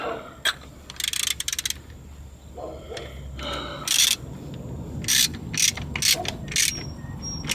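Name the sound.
tightening the oil drain plug on a 2015 Honda Civic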